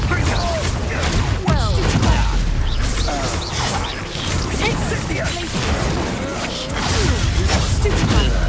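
A Confringo fire spell blasts during Hogwarts Legacy combat, a dense run of crashing, whooshing impacts and explosive bursts layered over game music and effects, with character voices calling out amid the fight.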